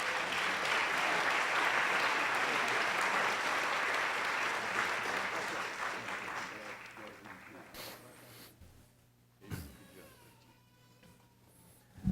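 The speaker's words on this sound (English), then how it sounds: "Round of applause, please." Applause from the audience at a police honor ceremony, loud sustained clapping that gradually fades out, followed by quieter room sounds and a brief bump at the end.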